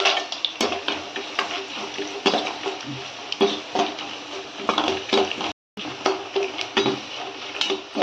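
Peanuts tossed into garlic in a pan for Tamil curry leaf rice, giving a steady close sizzle with light clinks and scrapes of utensil on metal throughout.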